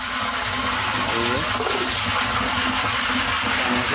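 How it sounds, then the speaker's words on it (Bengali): A submersible pump sends water pouring into a household storage tank, making a loud, constant rushing splash that holds steady throughout with a low hum beneath it. "জল পড়ছে"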